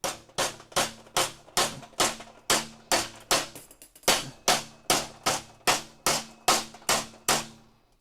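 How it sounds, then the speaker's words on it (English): A small mini sledgehammer strikes metal in a home garage during welding work, about a dozen sharp, ringing blows in a steady rhythm, close and loud, with a brief pause midway. "All right, sledge. The sledge should do it. It's a little mini sledge."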